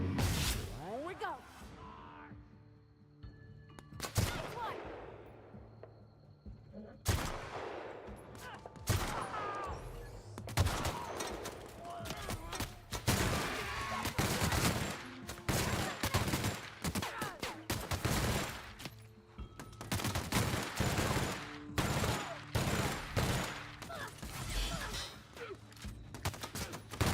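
Repeated bursts of gunfire crack through a combat scene in The Outer Worlds on Supernova difficulty, sharp near shots in irregular volleys, with someone talking over them throughout.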